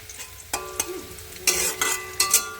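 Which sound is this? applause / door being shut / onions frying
onions frying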